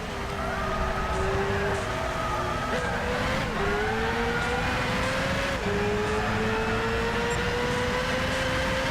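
Race cars from Gran Turismo 6 roar steadily throughout, engine tones rising as cars pass on the inside, with a continuous loud motor drone and layered engine notes.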